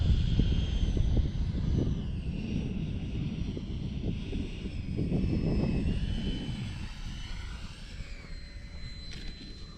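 A small jet engine whines and roars as a radio-controlled Freewing L-39 Albatros model jet flies past in the evening, swelling louder and then fading, with some wind noise.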